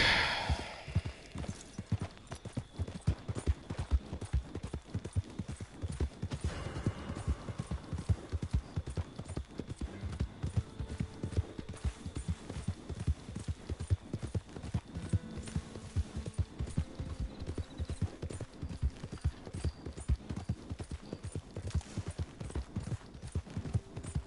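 Horse hooves in Red Dead Redemption 2 clip-clop in a steady, rhythmic trot for a long stretch, crisp and near, with occasional faint background sounds.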